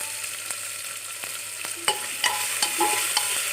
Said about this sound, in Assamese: চব্জিখিনি মোৰ ৰঙচুৱাকৈ ভাজ খাই গৈছে